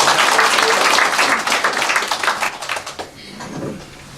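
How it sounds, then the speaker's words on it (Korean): Audience at a 2019 town-hall dialogue in Gwangcheon-eup, Hongseong County, applauds to welcome the county governor: loud, dense clapping that thins out and fades after about three seconds. "큰 박수로 환영해 주시기 바랍니다"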